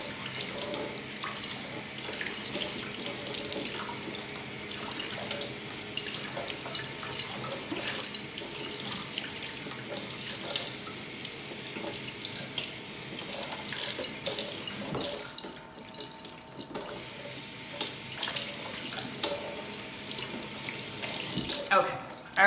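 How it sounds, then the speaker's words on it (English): Tap water runs steadily into a sink to rinse canned lentils, a continuous close splashing rush that briefly drops off near the end before resuming. "I'm just gonna rinse my canned lentils really well here"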